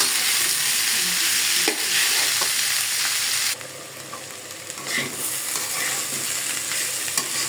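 Small potatoes with turmeric and salt fry as bhaji in a pan, giving a dense, loud, continuous sizzle with occasional stirring knocks, easing slightly partway through, with no talking.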